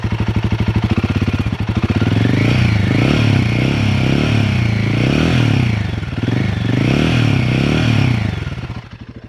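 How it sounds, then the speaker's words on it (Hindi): A Royal Enfield Guerrilla 450 motorcycle engine idles with a rapid, throbbing pulse, then revs up loudly and holds high revs before dropping back, with no talk over it. "और अगर मैं थोड़ा सा रेव करता हूँ,"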